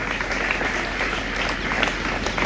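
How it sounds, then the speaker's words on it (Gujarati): Audience applause at a school Student of the Year ceremony at Purusharth Vidhyaniketan, a steady dense wash of many hands clapping together without a break, moderately loud and filling the hall. "આપણે આ અભિવાદનને જોરદાર તાળીઓથી વધાવીશું"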